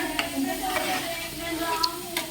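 Freshly ground ginger-garlic paste sizzles and fries in a hot pan, a steady crackling hiss broken by a few soft scrapes and stirring clinks, close and moderately loud with no talk.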